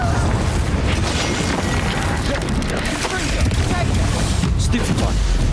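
Confringo blasting spell explosions in Hogwarts Legacy, a dense barrage of booming blasts and crackling bursts filling the whole stretch at steady loudness, with combat voices shouting spells over it.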